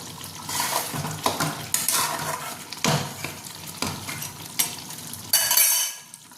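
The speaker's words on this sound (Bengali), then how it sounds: "এবার জাস্ট এখন মিশিয়ে নেব।" Food being stirred in a frying pan on a home stove, with a spoon scraping the pan in repeated strokes over a steady sizzle, loud and close, with no talking.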